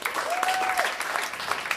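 Audience applauding artists at a stage concert, a brief burst of steady clapping with a short whistle-like tone near the start and a voice faintly underneath.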